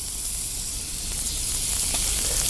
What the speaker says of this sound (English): We're going to add a couple of pieces of butter.